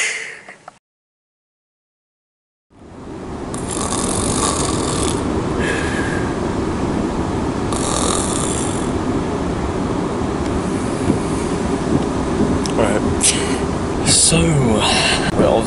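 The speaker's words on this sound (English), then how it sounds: "Yes, we're on the train, obviously, to get there." Rumbling ride aboard a commuter train, a steady loud rolling roar with occasional rattles and clunks that starts after a brief silence.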